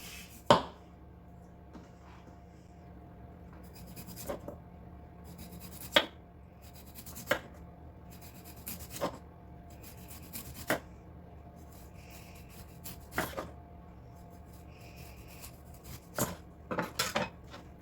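Knife cutting through potatoes and courgette on a board, a series of sharp, separate chops and clacks at an irregular rhythm against a low background hum, with no talking.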